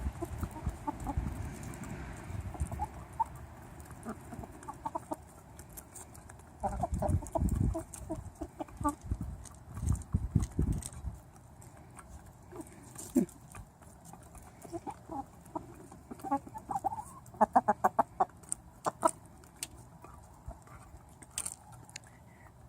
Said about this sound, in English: And I don't know many people who have Barnevelder chickens.